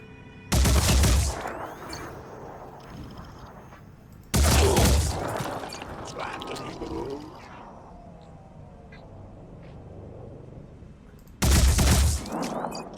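Gunfire in the Phoenix Point tactics game: three loud, separate shots spaced several seconds apart, each a sharp booming blast with a short tail, with softer ambient game sounds between them.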